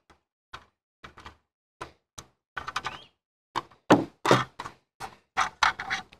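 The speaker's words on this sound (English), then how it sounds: "Use a screwdriver to help pry it up." Metal L-shaped staple grab rail pried off a model train body with a screwdriver: a string of small sharp clicks and taps, sparse at first and then quicker and more clustered, close and dry with no voices.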